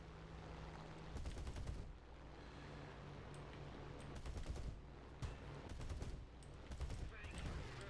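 Aircraft machine guns fire in bursts during War Thunder Bf-109Z dogfight gameplay, several short rattling volleys over a steady engine drone, fairly faint.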